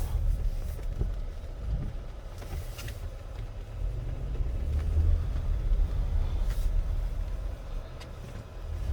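A 2021 Cadillac XT6 accelerating hard, heard as a steady low engine and road rumble from inside the cabin, continuous and fairly loud with a slight swell midway.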